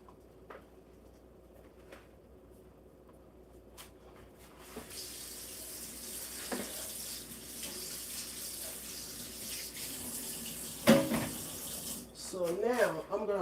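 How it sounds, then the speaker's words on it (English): Kitchen tap water runs into a sink while rice is rinsed, a steady rushing stream that starts quiet and grows fuller, with splashes and a few clinks near the end. "So now I'm gonna rinse this rice, okay, so that they don't stick together."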